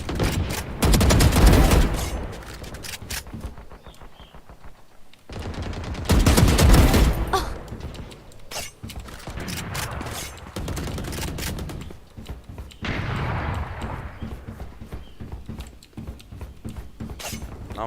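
Rapid enemy gunfire in the video game Valorant, dense crackling bursts that start and stop in several loud volleys with short gaps between them.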